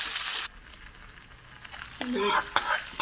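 Curry of drumstick leaves (muringayila thampuli) stirred in a pan after a couple of pinches of asafoetida go in, soft sizzling with scraping strokes, a short louder burst at the start and more stirring near the end.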